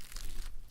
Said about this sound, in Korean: 고로케 튀겨진 튀김옷을 깨무자 느껴지는 바삭바삭한 감촉